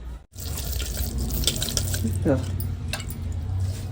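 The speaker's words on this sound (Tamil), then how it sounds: "இந்த குண்டான்ல வந்து கொஞ்சோண்டு தண்ணி ஊற்றிக்கணும் அப்போ தான் ஒட்டாது" Water runs steadily into a cooking pot for ragi kali, a continuous close splashing gurgle with a few faint clinks and a brief voice.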